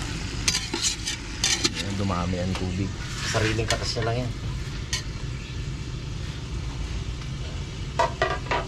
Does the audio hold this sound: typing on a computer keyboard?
no